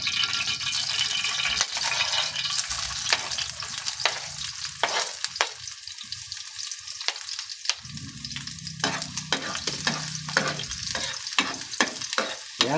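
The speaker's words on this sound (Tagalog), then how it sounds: "Ilagay na po natin yung ating hiniwang rekado." Sliced aromatics sauté in hot oil with a steady, loud sizzle and crackle, broken up by repeated scraping strokes of a utensil stirring close by, and no talking.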